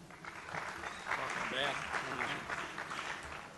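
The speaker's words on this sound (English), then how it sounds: "Loud round of applause for Mr. Dippel." An audience claps at an awards ceremony, a steady, moderately loud round of applause with mixed voices and cheers running through it throughout.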